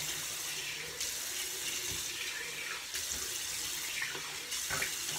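Water runs continuously from a sink tap while a face is rinsed, with splashing changes as hands move under the flow and quiet music playing underneath.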